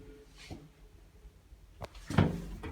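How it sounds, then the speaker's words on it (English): Bifolding doors on a scenic hydraulic residential elevator in a showroom, giving a couple of soft clunks and a brief sliding rattle, quiet and fairly close, without talk. "Has bifolding doors."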